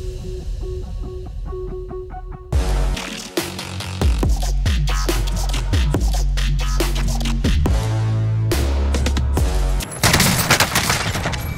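AK rifle fire in Call of Duty Warzone, with loud rapid bursts of shots and sharp cracks nearly throughout, briefly interrupted near the start, then resuming in close, dense volleys.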